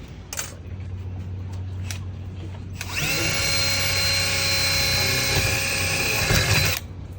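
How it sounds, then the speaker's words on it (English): A power drill bores through the bottom of a MORryde handle extender at a Coachmen RV rally, a steady high whine that runs for about four seconds after a few faint clicks, loud and close. "The only thing you're drilling is down here on the bottom."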